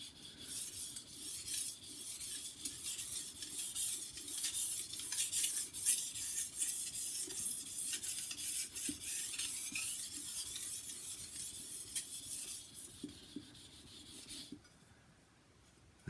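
A kitchen knife stroked by hand across a coarse 200-grit whetstone gives a steady, close rasping scrape in repeated passes for most of the stretch, then fades out near the end.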